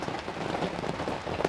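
Heavy rain pours steadily onto the ground and nearby surfaces outdoors during an Ohio bowhunt, a dense and constant patter close to the listener with no voices.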